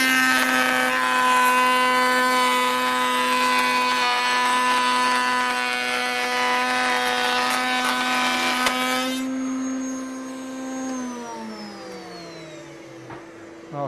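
Saw cutting a pattern into a wood workpiece held in a sled, with a loud, steady high-pitched whine running for about nine seconds, then the blade spinning down with falling pitch.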